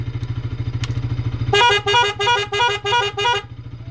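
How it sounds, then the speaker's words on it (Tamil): A seven-tone wind horn plays a rising then repeating melodic sequence of short bursts over a steady Bajaj Pulsar RS200 motorcycle engine idle, loud and close. "நான் வந்து ஹாரன் அடித்து காட்டிட்டேன்"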